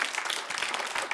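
A studio audience applauds on a Vitamin Ereko comedy TV show, with close, dense, continuous clapping throughout the short moment.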